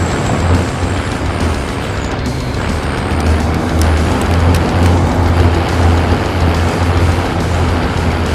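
A vehicle driven in a video game, with a loud, steady engine roar and road rumble throughout, a faint high whine fading early on.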